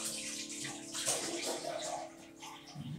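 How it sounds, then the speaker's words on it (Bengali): Cut vegetables for a Bengali dudh shukto are washed in water, a steady splashing and running-water wash at moderate level, continuous with a brief stir of sloshing midway. "সবজিগুলো আমার কাটা হয়ে গেছে, এবার আমি এগুলোকে ধুয়ে সাইডে সরিয়ে রাখবো।"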